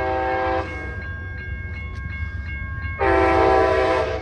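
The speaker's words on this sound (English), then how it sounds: "here comes Amtrak Coast Starlight train number 11" Amtrak Coast Starlight passenger train number 11 passing on a street in South San Leandro, California, its loud horn blaring in two long blasts around a rumbling stretch of rolling cars, close and dominant.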